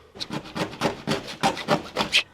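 Rhythmic hand sanding of old truck bed parts on a 1983 Toyota Trekker, about eight quick back-and-forth rasping strokes, close and fairly even in pace with no voices.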